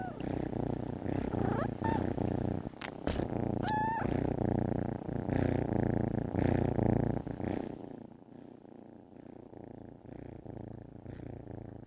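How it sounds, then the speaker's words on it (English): Steady, rumbling purring from cats close to the microphone, continuous and rhythmic, with a brief high chirp partway through. "here is the sound of Henrietta and Maud purring."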